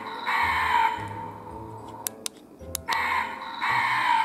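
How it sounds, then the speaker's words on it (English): Harsh, raspy crow caws from a Playmobil Scooby-Doo Haunted Mansion playset, three drawn-out calls separated by a few sharp clicks. "And the crows."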